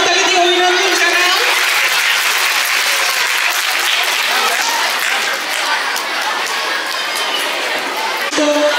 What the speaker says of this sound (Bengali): ছাত্রীরা তোমাদের উদ্দেশ্যে বলছি একবার করতালি দিয়ে অভিনন্দন জানাও।